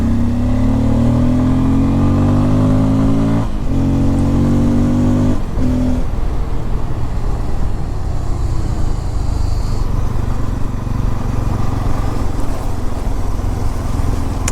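A Bajaj Pulsar N250 motorcycle rides along an empty road, its engine droning steadily and loudly with rising revs that drop at gear shifts, then settling into a continuous rough hum with wind noise.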